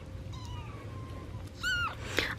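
Kittens mew with a few high, thin cries, one drawn out and then two shorter ones close together, over a low background hum.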